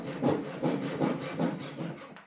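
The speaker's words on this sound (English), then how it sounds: "I use my hugely expensive Parkside Japanese pull saw to cut them as close to the frame as possible" A Japanese pull saw rasps through wood in steady back-and-forth strokes, about five even pulls, close and clear with no talking.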